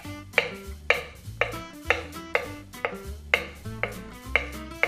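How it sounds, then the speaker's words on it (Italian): A knife chops chives on a cutting board in a steady run of about ten crisp, evenly spaced strikes, close and fairly loud, with no talk. "Vado a tritare dell'erba cipollina piccola piccola."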